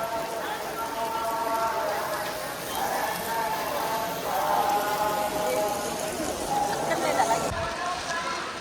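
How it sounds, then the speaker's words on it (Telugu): Heavy early morning rain pours down in Tirumala, a steady dense hiss of drops hitting surfaces that lasts throughout, loud and close, with faint voices murmuring underneath. "మార్నింగ్ 6 o'clock తిరుమలలో బీభత్సమైన వర్షం పడుతుంది."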